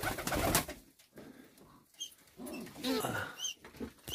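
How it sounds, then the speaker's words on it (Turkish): Homing pigeon chick in a loft, with soft bird cooing and calls interleaved with bursts of broadband rustle and flutter, near and moderately loud. "Şu posta yavrusu."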